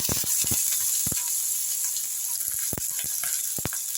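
Onion and garlic frying in oil with mustard seeds and curry leaves, a steady high sizzle throughout with a few soft clinks and stirs from a spoon, close up and with no talk.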